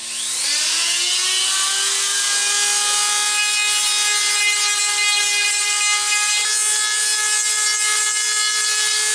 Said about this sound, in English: I got my Dremel with this little sanding disc thing on her